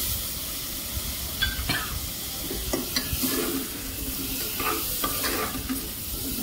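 Small chopped skin-on potatoes drop into a hot pan for Khandeshi masala khichdi, frying with a steady close sizzle and hiss, broken by a few light clatters and stirring scrapes.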